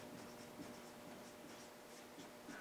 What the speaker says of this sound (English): I'm just going to write them down underneath it here